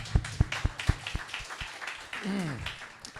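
Audience clapping at a church gathering with a worship team: a handful of sharp, scattered claps in a loose rhythm, with a voice speaking over them midway.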